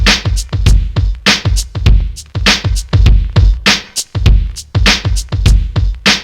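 A punchy hip hop drum loop plays loud and close, with deep kicks and crisp snares and hats repeating in a steady, swung pattern with brief gaps between hits.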